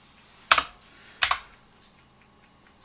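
A computer keyboard typed on while modeling in DesignSpark Mechanical CAD gives three short, sharp bursts of keystrokes spaced about a second apart, close and crisp against a quiet background.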